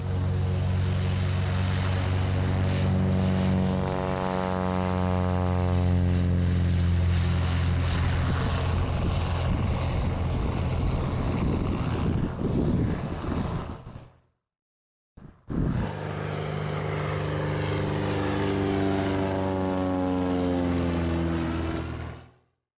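A propeller aircraft at a competition event roars past close and loud, its engine pitch sliding down as it passes, then cuts out briefly before a second loud pass with another falling drone.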